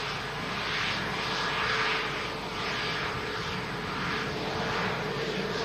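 A Q8 Airbus A330 airliner taxiing, its engines giving a steady broad roar at moderate distance that holds level throughout.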